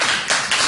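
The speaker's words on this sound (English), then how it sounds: "Hand claps, finger snaps for Brother Ray Rice." Hand claps and finger snaps for a radio guest: a few quick, soft taps in a short burst, close and dry, with no talking.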